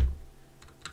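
A few light keystrokes on an ROG Scope 96% mechanical keyboard, two soft clicks close together after a low thump, faint and close with no talking.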